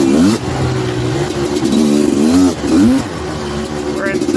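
A Suzuki LT250R quad's engine revs hard while riding, pitch rising and falling through gear shifts, loud and close over rough ground, with someone talking over it.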